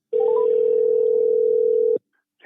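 A telephone dial tone sounds loud and steady for nearly two seconds after a quick pair of short beeps at its start, then cuts off abruptly into silence.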